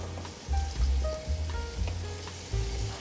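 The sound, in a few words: lotus root stir-frying in a pan with broth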